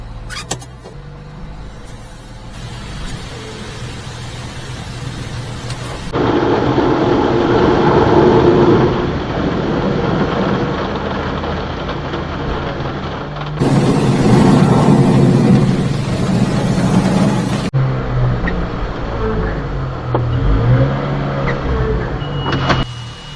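Car wash blow dryers roar over a mini truck, a loud, broad whoosh that swells and drops in sections while the idling engine hums underneath, with no talking.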